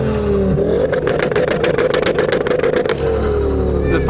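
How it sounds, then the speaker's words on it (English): A Mark II Ford Focus ST engine revs hard and loud at a rev-off event, rising into a sustained high-rpm blare with rapid pulsing before dropping back toward idle. "it's not a rev off without a Mark II Focus"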